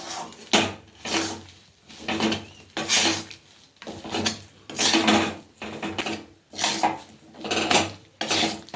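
Peanut and jaggery chikki mixture being stirred in a pan over a low flame, heard as rhythmic, close scraping and clattering strokes of a spoon against the pan, repeating roughly every second, without talk.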